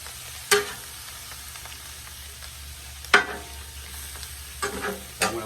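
A steak fries in a pan with a low, steady sizzle, broken by a few sharp clanks and scrapes of a utensil against the pan.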